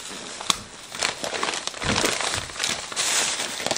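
Cardboard and plastic packaging around a set of three-tier pet stairs being cut open along the edges, close crinkling, tearing and crackling that goes on almost continuously with sharper snaps now and then.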